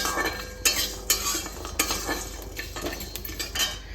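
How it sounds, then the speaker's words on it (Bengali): Dry spices are stirred in a dry wok for fried rice, with a metal spatula scraping and clinking against the pan in steady, close, repeated strokes over a faint hiss. "শুধু শুকনো কড়াইতে ভেজে নিতে হবে।"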